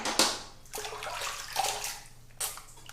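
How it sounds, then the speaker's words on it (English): A safety razor rinsed under a running tap, a steady close rush of water with splashy bursts at the start and near the end, with no speech. "All right, let me rinse."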